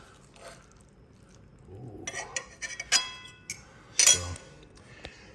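A few light clinks of cutlery against a plate at a dinner of ground turkey breast with onion, garlic powder and crumbled bacon, quiet and sparse, with a brief spoken word.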